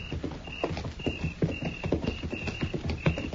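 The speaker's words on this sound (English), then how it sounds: "Yes, but what about that 4th horse, Mr. Dillon?" Radio drama sound effect of horses' hooves clip-clopping at a steady walking pace, close and clear, with a continuous rhythmic patter of hoofbeats and no voices.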